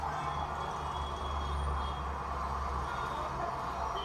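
Constant roar of outdoor street traffic picked up by a clip-on mic with noise cancelling off, a dense, even rumble and hiss throughout, no talking.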